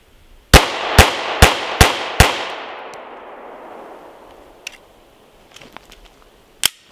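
A Glock G4 pistol fitted with a Strike Industries slide compensator fires five quick, loud shots up close in an even rhythm, followed by a long echoing decay and a few faint clinks.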